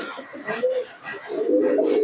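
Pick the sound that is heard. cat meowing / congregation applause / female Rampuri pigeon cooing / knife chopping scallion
female Rampuri pigeon cooing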